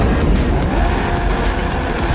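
WSBK superbikes launching off the grid at a race start at Mandalika, a loud, dense engine roar that holds steady throughout with no voices.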